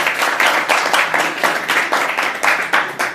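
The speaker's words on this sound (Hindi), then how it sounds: "ताली बजाइए इनके लिए।" Applause breaks out from an audience at a spiritual lecture on lust, a steady burst of many hands clapping close by with no voices over it.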